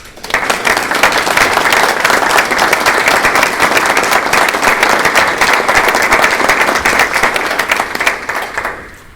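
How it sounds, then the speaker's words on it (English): A room of attendees at a regional policy board meeting breaks into a round of applause, a dense, steady wash of many hands clapping for about nine seconds before it tapers off. "I'm sure we can have a little round of applause for Hannes."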